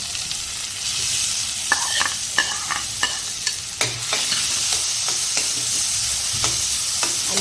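Onion cooking with garlic and ginger in a pan for pasta, a loud continuous sizzle with intermittent scraping and tapping of a spoon as it is stirred, close up and without talk.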